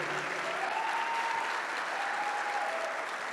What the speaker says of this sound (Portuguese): Vocês podem aplaudir o pastor de vocês? Aplauda forte, por favor.